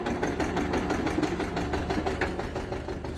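Tractor engines idle in a queue of sugarcane-laden tractor trolleys waiting at a sugar mill, making a loud, steady, throbbing mechanical rumble with rapid regular pulses and no voices.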